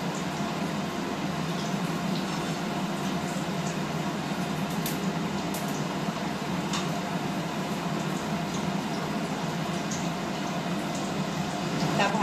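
Eggplant and vegetable fritters in chickpea batter fry in hot oil, giving a steady, dense sizzle and bubbling that holds evenly throughout with a few faint pops.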